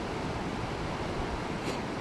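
Steady broadband rush of water pouring through a sluice gate on a stream, a constant dense wash with no breaks, fairly near and moderately loud, with no talking.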